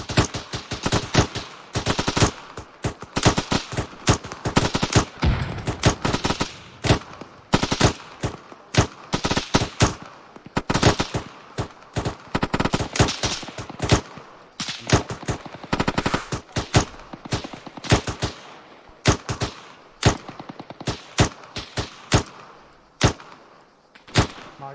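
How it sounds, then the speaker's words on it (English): Rapid machine-gun bursts and single rifle shots from an Arma 3 firefight ring out loud and close, densely packed and nearly continuous for the whole stretch. "Fire! Use your guns!"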